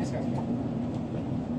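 Hammersmith & City Line underground train running toward Barking, a steady low rumble and hum heard from inside the carriage with a constant drone throughout. An automated announcement speaks over the noise.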